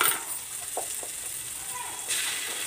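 Tomato frying in a pan for a home-cooked fish fry gives a soft, steady sizzling hiss, fairly quiet and continuous, with a couple of faint stirring touches.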